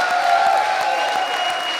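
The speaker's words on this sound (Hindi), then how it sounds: "और एक बार फिर जोरदार तालियां" A studio audience applauds on a Hindi comedy show, a steady wash of clapping that holds at an even level for under two seconds without any voice over it.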